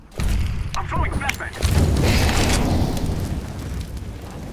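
A flashbang grenade detonates in CS:GO, a sudden loud boom followed by a sustained roaring wash of noise, with clicks and game sounds in the opening moments.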